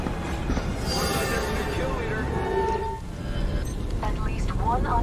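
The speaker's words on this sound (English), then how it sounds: "At least one other squad has boarded the train." Train rolling along in an online shooter match, steady rumble of wheels on rails with metallic squeals and a brief dip near the middle, while players chatter over it.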